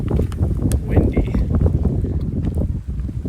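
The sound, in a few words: wind blowing by a mountain lake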